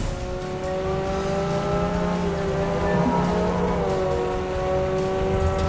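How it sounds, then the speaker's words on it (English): Racing cars in the open-world mobile game Turbo Tornado, a sustained loud engine drone with rising and falling revs and a brief tire squeal, continuous and close, with no voices. "You get to design your very own car and then unleash it in epic high-speed races across a sprawling city"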